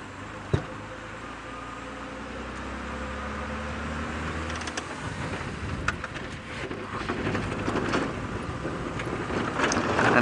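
A safari vehicle engine revs on an evening game drive, a rumbling low drone that builds and roughens into a louder, noisier roar, with a sharp knock early on.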